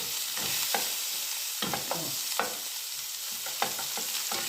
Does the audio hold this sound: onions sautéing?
yes